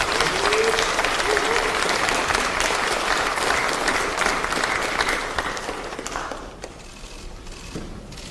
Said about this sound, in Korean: 환영과 격려의 박수 부탁드립니다.